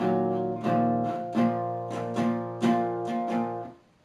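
An electric guitar plays a main riff: a short run of repeated plucked notes and chords, clear and moderately quiet, ending in a fading ring.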